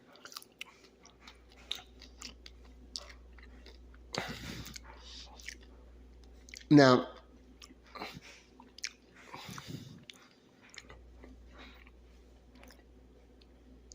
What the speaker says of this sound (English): I'm eating the chicken skin because it's got a good crunch to it